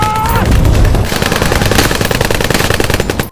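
Rapid machine-gun fire in a sea monster film scene, loud, dense bursts of shots rattling continuously at close range, layered over cinematic background sound.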